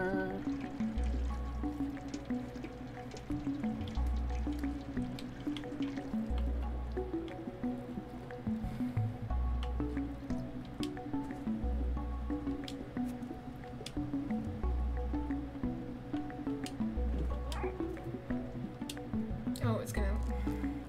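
A cat laps water in the video game Stray, repeated wet lapping squishes and drips in a steady rhythm over looping game music, with a player talking now and then.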